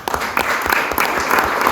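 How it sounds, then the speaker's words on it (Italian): An audience at the opening of a literature festival in Borgolibri claps steadily for the festival staff, a dense, close round of applause that fills the whole moment. "meritate questi applausi"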